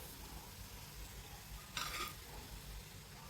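Veg Manchurian balls frying in oil over low to medium flame at home, a steady faint sizzle with a brief brighter burst of crackling midway, no talk.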